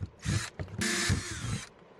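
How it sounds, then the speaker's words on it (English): A handheld drill bores holes into a pipe cap for a ram pump intake, whirring in several short, close, loud bursts separated by brief pauses. "So I can just come in this area right here with my drill to put a bunch of holes in here."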